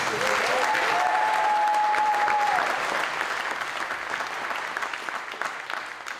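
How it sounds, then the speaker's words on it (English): Concert audience applauds a musician at an instrumental concert with a steady, dense wash of clapping that holds strong, then gradually thins and softens toward the end, with a brief tonal note sounding early on. "So please give Mr. Kim a round of applause."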